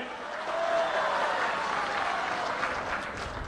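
A crowd at a political rally in Datti village breaks into sustained applause, a thick, even roar of clapping hands that holds steady across the whole stretch without any speech.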